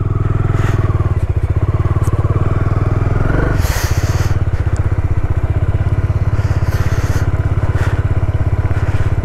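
A motorcycle engine rumbles loud and close as the bike descends a snowy mountain road near Chopta, a steady throbbing drone broken by a few gusty, crackling bursts.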